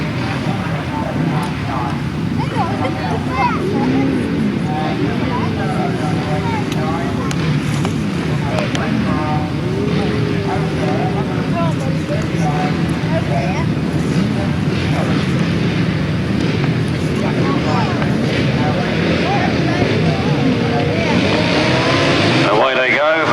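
Grasstrack motorcycles roar off the start line together in a 1991 race at Bodiam, a dense, loud engine blare that holds steady throughout, with a commentator talking over it.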